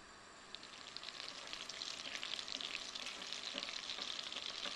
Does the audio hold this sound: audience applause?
no